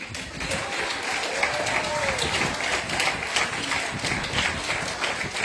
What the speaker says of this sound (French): s'il vous plaît, applaudissez mon mari